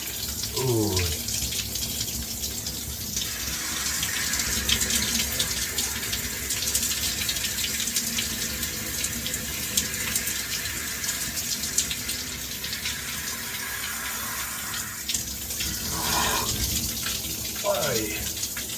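Cold shower water pouring steadily from the showerhead, a loud continuous close-up spray and splash throughout, with a man's brief exclamation and a few short voiced sounds breaking through.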